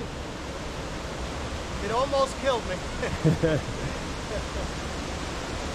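A Great Smoky Mountains creek rushes steadily in a broad, even wash of water noise, while people talk and exclaim loudly over it partway through.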